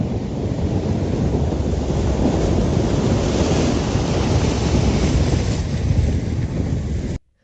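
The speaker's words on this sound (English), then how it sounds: "Then came the rain." Heavy rain pours in a steady, dense roar with low rumbling that fits thunder, loud and unbroken throughout before cutting off abruptly at the end, during a storm that triggered flooding and debris flows in burn-scarred Oak Glen, California.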